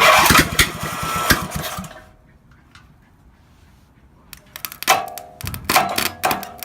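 An old lawn mower engine that had sat unused for over ten years sputters loudly close by, dies down to near silence, then coughs back with clanking, uneven bursts.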